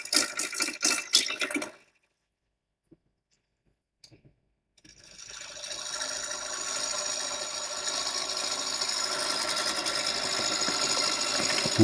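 An ash bowl turning on a wood lathe, a steady broadband hiss and whir of the cutting tool that builds after a quiet pause and continues evenly, with a brief burst of rough scraping at the start.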